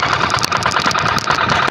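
A Yanmar hand tractor engine, hand-cranked to start, runs loud and close with a rapid, rough, steady chugging throb.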